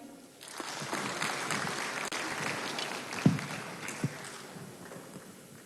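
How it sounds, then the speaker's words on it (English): Audience at a formal event clapping to welcome an honorable guest, a diffuse, moderately quiet spread of many hands in a large room, with a couple of sharper knocks partway through. "Please keep clapping."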